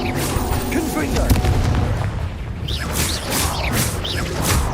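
Blasting-spell explosions in the video game Hogwarts Legacy: a rapid series of booming impacts and crashes over dense combat noise, with a voice calling out spells throughout.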